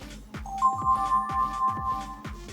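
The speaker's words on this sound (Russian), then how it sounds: "А вообще уведомления здесь приходят так." A Doogee N50 smartphone plays its notification tone, a short melodic electronic chime over a steady tapping beat, close and clean with no speech.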